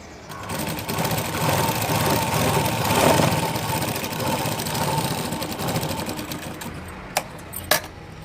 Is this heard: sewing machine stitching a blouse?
yes